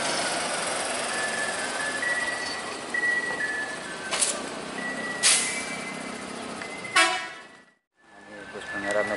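A Pangeran medium long bus from Sumatra rumbles steadily with a broad engine and road noise, while short horn toots and people talking rise over it and the noise briefly drops out near the end.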